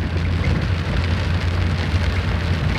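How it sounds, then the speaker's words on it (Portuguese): Heavy rain pours steadily in Varzelândia, Minas Gerais, a dense, even hiss of drops drumming on surfaces, loud and close with no pauses and no voices. "E a chuva apertou, pessoal."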